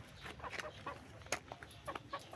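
Kanawayon chickens cluck in an airy coop, a series of soft, irregular clucks and chirps at moderate distance over low background noise.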